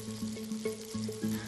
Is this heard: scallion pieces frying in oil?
yes